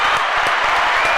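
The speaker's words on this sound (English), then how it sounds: "Let's give a round of applause for no messiness going on in the city." Brief burst of audience applause and clapping in a late-show podcast setting, a dense, steady patter of many hands with a faint voice underneath.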